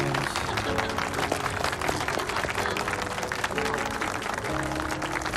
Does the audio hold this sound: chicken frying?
no